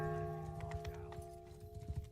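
A horse gallops in a video game, a quiet, steady run of hoofbeats clopping in quick rhythm against a sustained tonal background hum.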